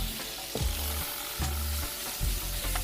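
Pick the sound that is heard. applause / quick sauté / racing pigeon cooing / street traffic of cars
quick sauté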